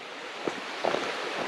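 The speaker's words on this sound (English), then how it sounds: "It's the sound of fresh running water," Steady broadband wash of fresh running water outdoors along a walking trail in Fife, continuous and fairly close, with a couple of brief footstep-like bumps partway through.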